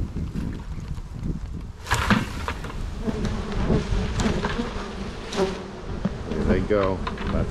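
A swarm of honey bees being shaken into a hive outdoors, a dense, loud buzzing drone close by that swells as the cluster drops, with faint rustling and handling noise.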